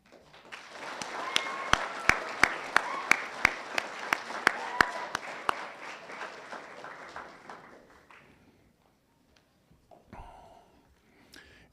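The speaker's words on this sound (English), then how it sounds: "share one more round of applause for all of our veterans" A school audience applauds veterans at a Veterans Day celebration, a broad sustained wash of clapping with several loud close claps in a steady beat, fading out after about eight seconds before brief voices follow.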